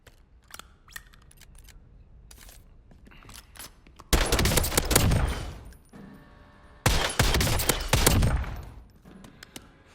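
Gunfire from the Goblin kit in the Warzone video game: scattered single shots give way to two loud, sustained bursts of rapid fire, each lasting a few seconds, close and dominant with no talk.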